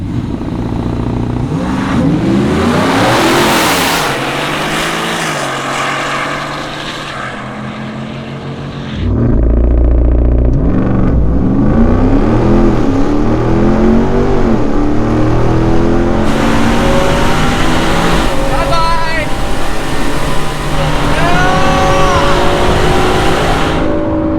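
A stock 2022 RAM TRX and a supercharged single-cab Ford F-150 roar and rev hard from a drag race launch, a steady high-powered drone with rising pitch sweeps, recorded close with no talking.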